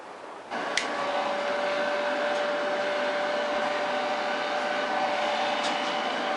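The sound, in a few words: hair dryer drying paint coat on leather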